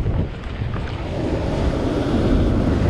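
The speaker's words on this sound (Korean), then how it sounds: "이런 거 파도가 온다고." Sea waves roll and break on a rocky shore during a fishing trip near Sydney, a loud steady wash with gusting wind noise on the microphone and no talk.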